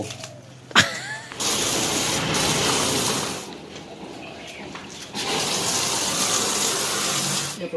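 Water rinses a used 85 W amorphous solar panel, a steady rushing wash that starts after a brief knock, dips briefly midway, then surges again and runs on to the end.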